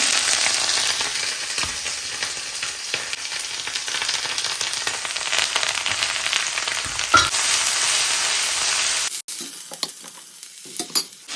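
Bitter gourd peel frying in hot oil sizzles loudly and steadily at close range for most of the stretch, then drops abruptly to a quieter crackle with a few stirring knocks near the end.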